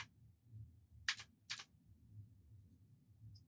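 Two crisp computer keyboard key presses about half a second apart, close and fairly quiet, over a low steady room hum.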